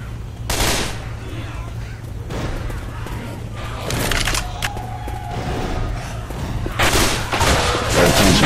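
Gunfire in the zombie shooter Left 4 Dead 2 sets off repeated sharp shots and bursts, loud and close, scattered across the stretch. A low steady drone runs underneath, and voices talk in between.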